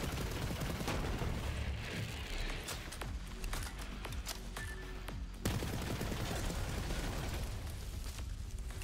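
Rowan's Call weapon firing in a video game, with continuous dense gunfire and explosive bursts rattling loudly throughout, no pauses.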